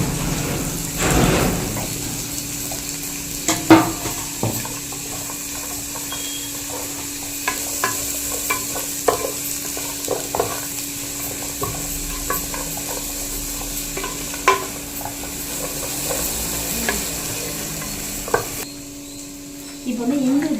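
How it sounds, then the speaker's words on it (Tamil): Peas, carrots, beans and cabbage sautéing in a pan for egg rice, a continuous sizzle beneath repeated scraping and stirring of the vegetables, close and moderately loud, pausing briefly near the end. "பட்டாணி, கேரட்டு, பீன்ஸு, முட்டைகோஸ் இது எல்லாத்தையும் இதில் போட்டு நம்ம நல்லா வதக்கிக்கலாம்"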